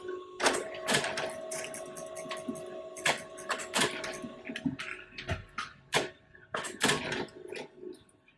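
An HP LaserJet printer with a toner leak and a paper-feed fault initializes, giving irregular mechanical clicks, ticks and clacks over a steady motor hum, close and fairly loud, with no talking.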